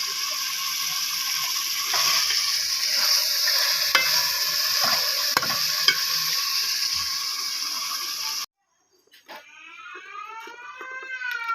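Aloo gobi salan being sautéed in a cooking pot over an outdoor fire, a steady crackling sizzle with occasional stirring clicks that cuts off abruptly, followed by faint chirping sounds.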